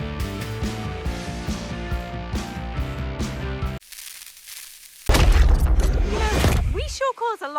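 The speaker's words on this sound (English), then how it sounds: "We sure cause a lot of explosions." Deep booming explosions and bursts in a video game trailer, loud and heavy, breaking in after a stretch of music and followed by rumbling debris and sharper pops.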